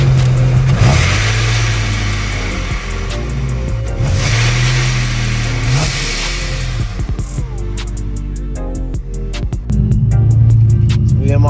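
A supercharged 480 hp Infiniti G engine revs repeatedly at a car meet, loud surging blips over a rumbling idle, with a hiss from the blow off valve between revs and some chatter nearby.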